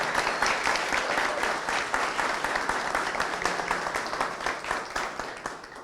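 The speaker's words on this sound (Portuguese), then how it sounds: "Por favor, levantem-se uma salva de palmas para eles também." Sustained audience applause at a press conference in Vila Socó / Vila São José, dense steady clapping from a standing crowd filling the room at even loudness throughout.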